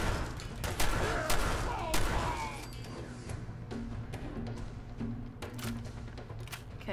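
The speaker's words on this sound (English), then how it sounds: "I'm using up all the bullets on my gun. This is my good gun. Maximum capacity hardened combat shotgun." Gunfire in the video game Fallout 4 from a maximum-capacity hardened combat shotgun: a rapid run of sharp shots in the first couple of seconds, then a few scattered reports under lower background noise.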